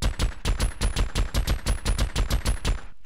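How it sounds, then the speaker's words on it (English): Rapid automatic fire from a chain gun in the Starforge video game, about a dozen evenly spaced loud bursts in a steady rhythm for three seconds before cutting off, with no talking. "I just got a chain gun."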